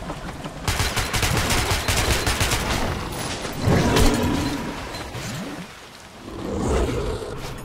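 Heavy, continuous automatic gunfire in Metro Last Light in the Marshes, loud and close, with brief lulls and renewed bursts, plus some game ambience and no talking.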